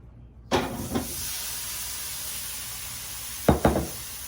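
Canned potatoes hit a hot pan with a sudden thump and a burst of hissing sizzle that settles into a steady, close hiss. Two more quick plops and sizzles follow near the end.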